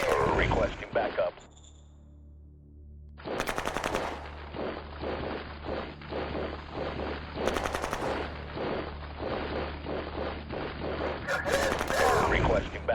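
Rapid machine-gun fire from the strategy game Shadow Empire, loud bursts of closely spaced shots that continue for several seconds after a brief quiet, with a voice speaking at the start.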